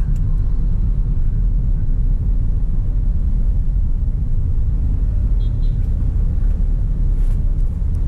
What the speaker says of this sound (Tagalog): Lagi na lang traffic dito sa EDSA.